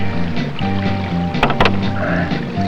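A fishing boat's engine runs on open water with a steady, close droning hum, broken by a couple of short sharp bursts of noise partway through.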